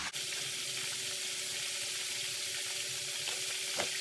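Cauliflower rice frying in a pan as part of a shrimp fried rice dish, giving a steady, close hiss and sizzle with a faint clink near the end and no voices.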